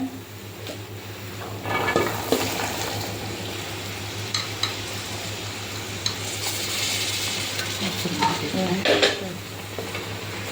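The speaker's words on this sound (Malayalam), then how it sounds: "ഇതിന്റെ അകത്തേക്ക് നമ്മൾ വേവിച്ച് വെച്ച വെള്ളക്കടല അതിട്ട് കൊടുക്കുവാണ്" Cooked white chickpeas are stirred into a sizzling masala gravy for chole, with a soft ongoing sizzle, a low steady hum and intermittent spoon scrapes and clinks against the pot, near and without speech.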